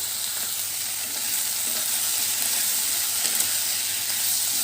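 Vegetables for restaurant-style sambar sizzle and fry in a pan while being stirred, a steady close hiss with soft scraping throughout, no voices.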